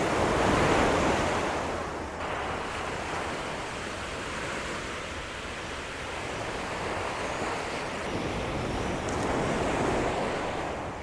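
Ocean waves roll and break on a beach in a steady, loud wash of surf, swelling near the start and again toward the end, with some wind buffeting the microphone and no voices.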